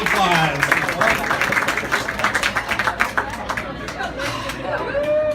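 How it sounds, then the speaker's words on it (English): A live magic show crowd at Speek Eezy claps and applauds, a dense patter of hands mixed with chatter and a few cheers, fairly close and steady throughout with a performer's voice over it. "A round of applause,"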